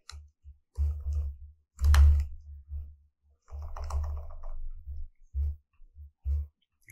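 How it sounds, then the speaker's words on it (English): Keys clicking on a computer keyboard while text is typed into an AWS architecture diagram, heard as short bursts of close taps with brief pauses between runs. "And then I'm going to type to add text."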